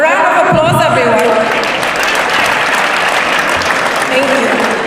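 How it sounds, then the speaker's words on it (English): An audience at the official opening of an international training event in the Gambia applauds the Honorable Minister, loud steady clapping mixed with voices and some tonal sound from the hall, continuing throughout. "A round of applause, everyone."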